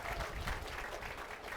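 An audience at a city's State of the City address applauds a pastor after his prayer, a brief, muffled, fairly faint wash of clapping.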